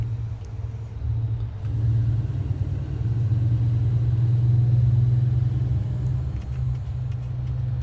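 A heavy truck in American Truck Simulator rumbles steadily as it slows under braking, its low engine drone loud and continuous, with a faint high whine over it and no voices.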